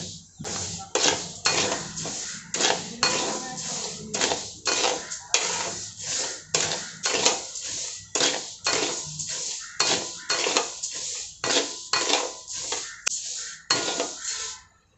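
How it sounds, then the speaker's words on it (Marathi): Mixed grains and rice are stirred and dry-roasted in a pan over a high flame, making a steady run of loud, close metallic scrapes and clinks that repeat roughly every half second, with no voice. "मोठा गॅस असला की सतत असा हलवत राहायचं नाहीतर मग खाली तळाला पण चिटकून बसतात धान्य"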